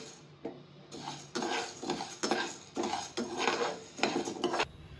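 Roasted toor dal tips out of a metal pan, giving a run of rattling, scraping pulses as the grains slide and the pan clanks, fairly close and with no talk.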